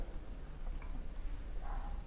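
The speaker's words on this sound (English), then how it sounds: "So I'm going to add a glass of water" Water poured from a glass into a pot of Irish stew with diced tomato and beef stock, a steady splashy pour that swells louder near the end, alone without talk.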